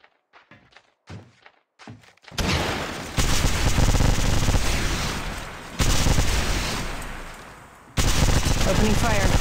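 Gunfire in the video game Apex Legends: a few isolated thumps, then long, loud, dense bursts of rapid automatic fire that stop and restart.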